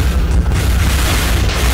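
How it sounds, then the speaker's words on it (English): Many explosions from the Feed the Beast game, a loud continuous rumbling boom with overlapping blasts that blend into a heavy roar, no speech. "Oh man, so many explosions."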